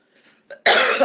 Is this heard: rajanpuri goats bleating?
no